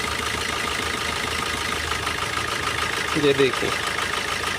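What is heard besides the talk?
car engine idling roughly with a fuel injector disabled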